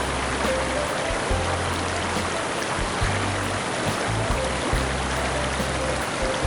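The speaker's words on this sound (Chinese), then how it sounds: "河水又开始泛滥了起来，污浊的河水又一次的把一家3口与外界隔绝了起来" Muddy floodwater from a swollen river rushes past in a loud, continuous roar that stays steady throughout, with low rumbling under the hiss of the flow and no voices.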